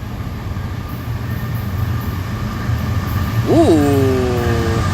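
A CSX freight train passes with a continuous low rumble and rolling clatter that swells gradually, joined briefly near the end by a short gliding, voice-like tone.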